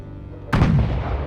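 A ship's cannon in a sailing video game fires once with a sudden loud boom, followed by a rumbling decay that carries through the rest of the moment.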